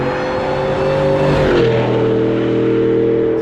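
A heavy Shelby car, about 2.4 tonnes, roars loudly as its engine revs and shifts pitch through a gear change, a continuous, throaty mechanical sound that fills the whole stretch with no talk.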